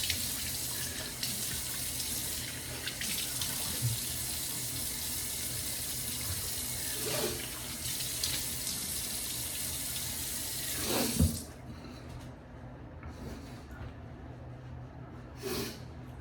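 Tap water runs steadily into a sink while someone rinses their face, a close, continuous splashing rush that cuts off abruptly near the end, leaving quiet room tone with a couple of faint sniffs.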